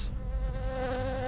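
Steady insect-like buzzing of the cat bees in the horror video game Poppy Playtime, a continuous droning hum with wavering harmonics, close and fairly loud, without speech.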